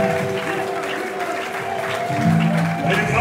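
An audience at a funeral service for a pastor applauds in a continuous wash of clapping, with sustained musical tones and voices running underneath.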